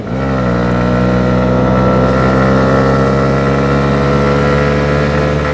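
Steady engine drone of a 2021 Honda CB125R motorcycle at a constant cruising pace, loud and close with no gear changes, running without any talk.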